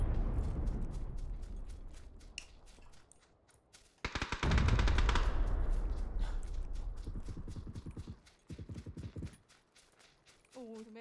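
An SLR rifle fires in a shooter game in rhythmic, evenly spaced shots that come in several separate strings, with a loud blast in the middle. Someone talks over parts of it.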